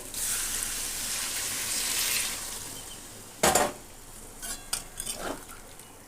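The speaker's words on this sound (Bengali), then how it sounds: "এবারে জল দিয়ে দেবো" Water is poured into a hot pan of fried raw potatoes for a jackfruit and prawn curry: a rushing sizzle for two seconds, then a few sharp clinks and scrapes of a utensil against the pan.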